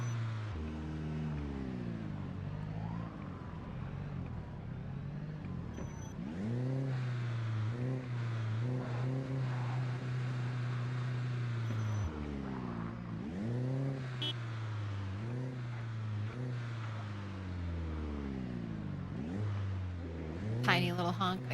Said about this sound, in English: Listen to my noisy speed demon car. Follow the sound of my engine revving.